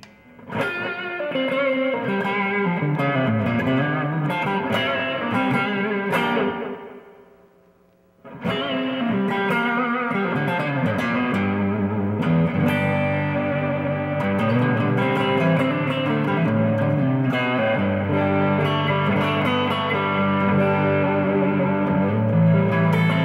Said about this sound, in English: The overdrive and the delay is pretty useful together.